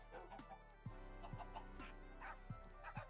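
Repeated short clucks from Minecraft chickens over a steady low hum, with occasional louder squawks, in a synthetic game-like soundscape.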